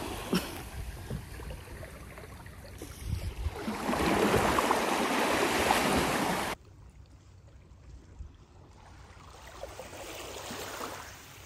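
Ocean waves wash in at Hellshire Beach, Jamaica on a quiet morning, a steady broadband surf that swells louder for a few seconds before dropping to a softer, more distant wash.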